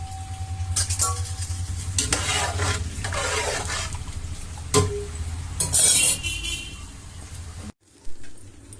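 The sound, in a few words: rice added to boiling spiced water for paneer biryani, stirred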